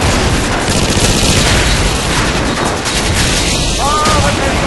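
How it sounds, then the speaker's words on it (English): Heavy explosions from an airstrike boom in a video game clan match, mixed with continuous gunfire into a loud, dense, unbroken barrage. "Friendly airstrike on the way!"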